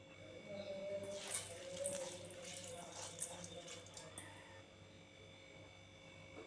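Split moong dal is washed in water for millet pongal, faint splashing and sloshing in a bowl for a few seconds over a low electrical hum, then fading to quiet.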